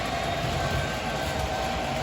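A model train rolls along a layout track, giving a steady, continuous rumbling whir with soft clicking at constant volume throughout.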